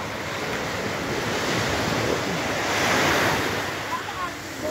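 Ocean surf rushes steadily onto the shore at Sual Beach, Pangasinan, a broad continuous roar that swells midway, with wind buffeting the microphone.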